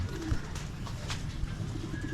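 Pigeons coo softly in a backyard loft of around forty birds, low murmuring calls that overlap faintly against steady background noise, with no talking.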